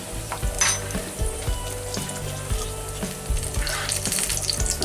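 Powdered cayenne pepper being stirred into a sizzling curry ketchup sauce for German currywurst, with a steady, close frying hiss and soft repeated scrapes of the stirring spoon against the pan.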